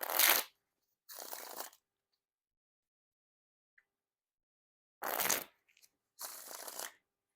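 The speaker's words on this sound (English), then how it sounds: "And now time for the riffle shuffle or bridge shuffle." Snackers v3 Blueberry Edition playing cards are riffle shuffled in two close, crisp bursts, each a quick fluttering crackle followed by a softer bridge cascade, with near silence between the pairs.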